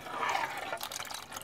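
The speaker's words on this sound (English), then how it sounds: "I'm also going to take the time just to spray some water on here, cut down the amount of brake dust" Water sprayed onto the brake of a Mercedes ML350 during a brake repair, a steady hissing spray with splashing and dripping, close and continuous for a moment.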